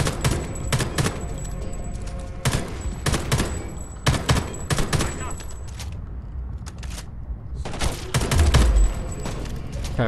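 Enemy gunfire in Homefront: The Revolution, dense bursts of rapid shots crackling close and loud in clusters with brief gaps, a player talking over the shooting.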